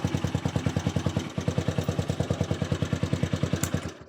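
A motorcycle engine idles steadily after an electric start, its even, rapid thumping putter close and loud, with one brief hitch partway through and no talk.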